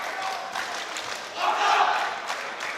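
A boxing crowd cheering and shouting from a balcony during a bout between Hamzah Mehmood and Contreras, a steady roar of many voices that swells louder midway, with shouts rising out of the crowd noise.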